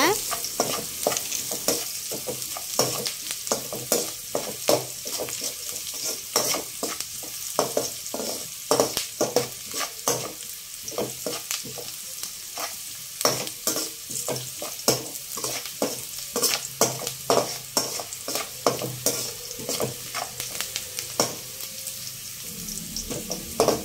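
Chillies frying in oil in a pan for egg rice. A steady hiss runs under a long run of sharp spatula scrapes and taps against the pan, heard close by.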